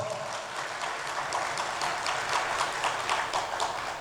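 Audience at a professional tax-focused gathering gives a round of applause for its ExCom members, steady dense clapping throughout the few seconds with no talk over it.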